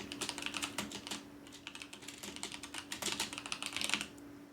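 Quick bursts of keystrokes on a computer keyboard as a file name is entered, steady clicking at close range with short pauses between runs of typing.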